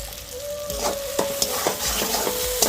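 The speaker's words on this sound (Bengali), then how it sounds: "দিয়ে দেবো ম্যাগি মশলা, দিয়ে ভালো করে কষে নেব।" Ground spices, coriander powder and Maggi masala seasoning sizzle in oil in a pan for egg kofta curry. A spatula stirs them in a quick series of rhythmic scraping strokes over a constant frying hiss and a faint steady hum, with no talking.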